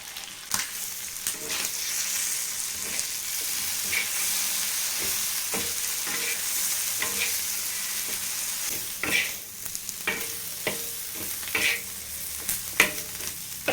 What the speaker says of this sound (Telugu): ఇప్పుడు మిగిలిన ఫ్రాన్స్ని కూడా ఇలాగే ఫ్రై చేస్తున్నా ఇప్పుడు మూత పెట్టేసుకొని వీటిని కూడా ఫ్రై చేసేద్దాం